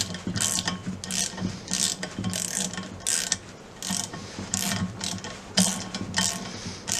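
Wheel bolts on a Land Rover Discovery 300 TDI being tightened with a ratchet wrench, a close series of quick repeated clicking ratchet strokes in short bursts, no talking.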